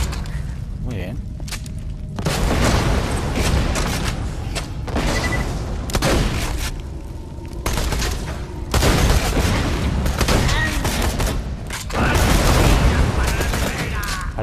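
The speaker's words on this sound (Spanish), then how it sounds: "Parece que hasta los tiros se quedan en el suelo y luego explotan." Video game Borderlands combat: dense bursts of gunfire and booming explosions pound almost continuously at close range, with a voice talking over the action.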